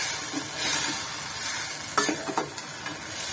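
Tomato juice sautéing in a pan for manathakkali kuzhambu, a steady close sizzle with stirring scrapes and a few clinks of the spoon, no voices.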